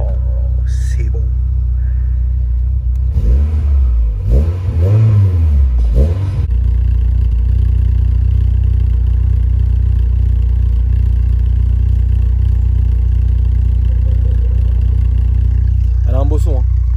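A Renault Clio 16S engine rises through a few sharp revs, then settles into a loud, steady idle rumble that holds for the rest of the clip, with one brief blip near the end.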